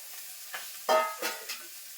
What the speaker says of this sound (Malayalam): ഇതാ ഫിഷ് നമ്മൾ നേരത്തെ റെഡിയാക്കി വെച്ചില്ലേ, ഇത് നമുക്കൊന്ന് എണ്ണയിലോട്ട് ഫ്രൈ ആക്കാം